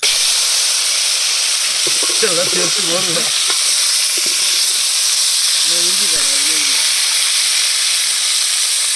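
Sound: crab frying in hot oil on a stove

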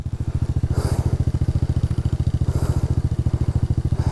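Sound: Polaris ATV engine struggling uphill

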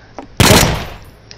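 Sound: gunfire

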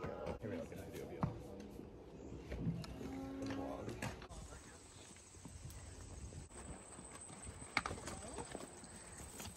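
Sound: horse hooves clip-clopping

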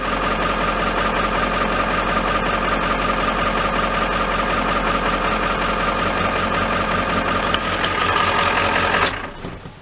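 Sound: 1995 Ford F-350 7.3L diesel engine running after start

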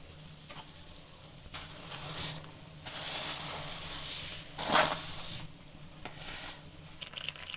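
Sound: vermicelli being added to boiling water in a pot

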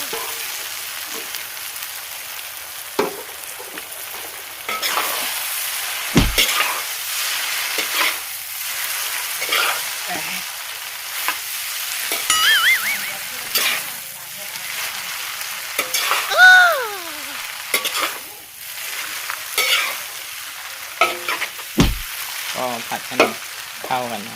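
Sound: stir-frying mee sua noodles in a pan

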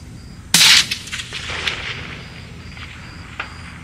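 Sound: rifle shot from a Bergara MgLite at a 750 target

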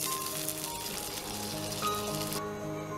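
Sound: pointed gourd (potol) frying in a pan

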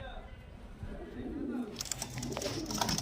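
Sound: female Udaipolong pigeon cooing

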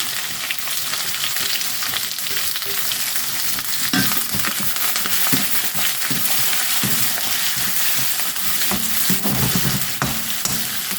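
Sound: onions and spices frying in pan

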